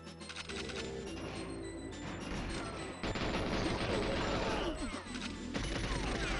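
An AK rifle in a GoldenEye randomizer shooter game, heard as rapid, continuous automatic bursts, loud and dense, with short breaks between strings of shots.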